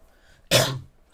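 A single short, sharp cough bursts out close by, surrounded by near silence.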